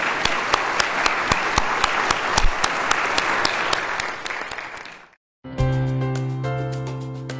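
A congregation applauds inside a church during a worship service, a dense wash of clapping that fills the room for about five seconds, then cuts out abruptly before an organ or music begins.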